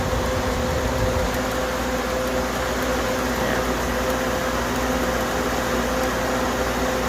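A homemade air conditioner runs steadily, giving off a loud, constant mechanical hum with a fan-like whoosh and a clear electrical tone throughout. No one speaks.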